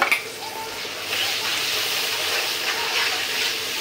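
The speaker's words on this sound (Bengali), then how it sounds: "এখন মশলাটা একটু কষাই নিই।" Spice paste of coriander powder, salt, cumin and ginger-garlic paste sautés in a pan for a mustard hilsa dish, giving a soft, steady close hiss and sizzle with no voices.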